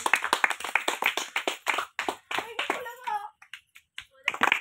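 Children clap for the winner of a game at a Raksha Bandhan celebration, a run of sharp, close hand claps in quick rhythm, then a brief pause with a voice before the clapping picks up again.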